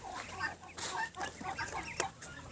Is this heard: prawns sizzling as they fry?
no